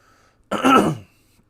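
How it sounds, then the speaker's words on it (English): A single throat clearing, close and fairly loud, a short rough rasp lasting about half a second with quiet before and after. "I know I'm like clearing my throat a lot"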